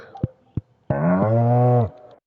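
A farm animal in Stardew Valley gives one sustained, loud, close moo lasting about a second, preceded by a few short interface clicks.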